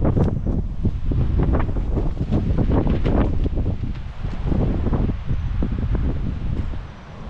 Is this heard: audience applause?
no